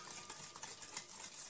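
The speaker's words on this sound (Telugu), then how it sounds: "బాగా బీట్ చేసుకోవాలి క్రీమీ స్ట్రక్చర్ వచ్చినంత వరకు" A spoon beats nankhatai batter in a bowl until it turns creamy. The strokes come as quick, even, rhythmic swishes and taps, soft and close, with no voices.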